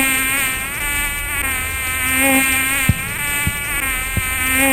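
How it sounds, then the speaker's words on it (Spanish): Loud, steady insect buzzing drones close up throughout, like flies swarming, with a few faint ticks near the end. "Después llegó la plaga de moscas en todo el palacio y en toda casa egipcia."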